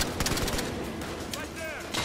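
Rapid gunfire from Battlefield Hardline crackles in a burst of close, sharp shots under voices talking.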